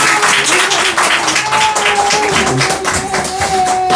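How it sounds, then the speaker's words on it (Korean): A church congregation at a Christmas thanksgiving service claps loudly to celebrate a child's baptism, a thick, continuous burst of many hands, with a faint sustained tone running beneath. "우리 큰 박수로 축하하겠습니다"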